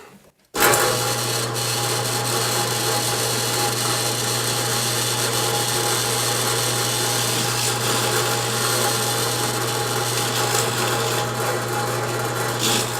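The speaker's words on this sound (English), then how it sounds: "I have everything else set up in the router with a chamfer bit, and it's just easier to do it here" A wood router fitted with a chamfer bit cuts a wooden hinge piece in a workshop, a loud steady whine with rough cutting noise that runs continuously for about twelve seconds after a short quiet start.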